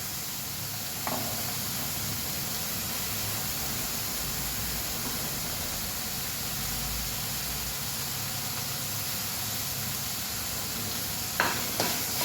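Tomatoes dropped into onions frying in oil for a potato and pea curry, a steady broadband sizzle running throughout with a few faint clicks of utensils near the end, no voices.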